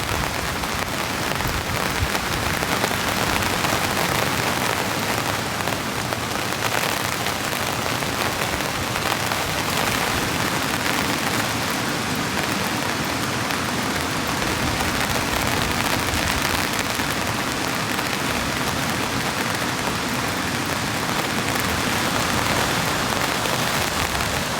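Heavy rain drums steadily on a hot tent during a camping rainstorm, a loud, close, unbroken hiss and patter that runs the whole time without talk.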